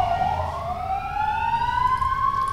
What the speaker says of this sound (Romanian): Sunet de salvare auzim astăzi peste tot în țară